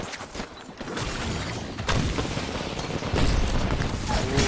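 Mastiff shotgun blasts in Apex Legends during the final circles of a tournament match, several heavy booming shots amid continuous chaotic gunfire and explosions, loud and dense with no clear gaps.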